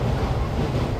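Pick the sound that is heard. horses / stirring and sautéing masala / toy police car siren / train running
train running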